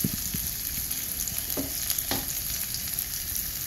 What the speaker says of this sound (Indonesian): lanjutkan tumis hingga harum sebentar lagi. Baru kemudian kita tambahkan cabai merah, cabai hijau, dan rawit yang sudah kita iris.